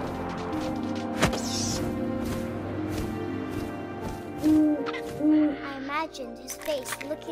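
Owl hooting in the video game What Remains of Edith Finch, a few soft tonal hoots rising over a steady backdrop of wind and ambient game sound, with no one speaking.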